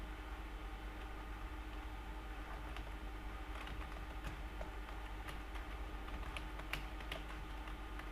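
Someone types a username on a computer keyboard, a steady run of quiet, close key taps over faint background hum, with no one speaking.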